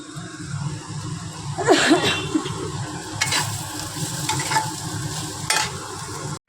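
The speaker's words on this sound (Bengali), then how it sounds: "আলুটা ভেজে নিচ্ছি" Potatoes frying in a home kitchen pan, a continuous sizzle with stirring scrapes and a few sharper clatters, close and moderately loud.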